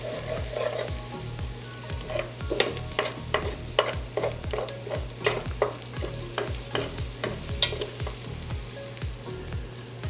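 Onions and mixed vegetables sauté in a pan with a steady close sizzle, broken by repeated rhythmic stirring scrapes and clacks throughout, with no voices.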